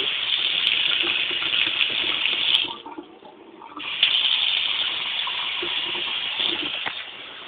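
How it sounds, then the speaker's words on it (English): Water runs steadily from a newly installed bar sink faucet in a bright, hissing stream, briefly cut off for about a second before flowing again. "Faucet is running"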